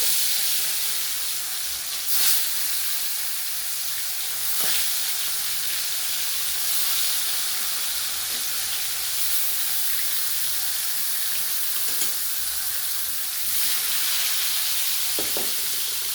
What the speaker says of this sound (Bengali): এবার আমি মাছগুলো একে একে বেশ লালচে করে ভেজে নেব